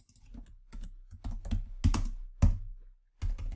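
Typing on a computer keyboard comes in uneven bursts, with several loud, close key clacks, short pauses between groups and a brief silence near the end.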